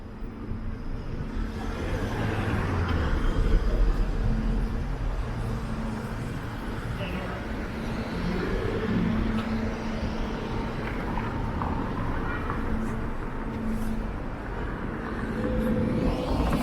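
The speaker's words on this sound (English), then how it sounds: "more traffic than I would expect on a Sunday during lockdown" Steady traffic on Dundas Street in Toronto on a Sunday, with cars passing continuously in a broad, moderately loud roar that swells and fades without pause.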